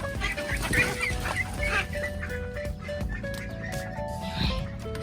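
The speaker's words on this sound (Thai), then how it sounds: "อุ้ยแม่ไก่กำลังอยู่ในนี้เลย" A hen clucks inside a chicken coop, close and loud, with repeated throaty clucks over some rustling and background noise, while someone talks.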